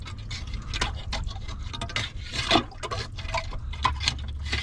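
Underwater splashing and bubbly patter from a lobster in a hole, with irregular clicks and sloshes over a low rumbling background.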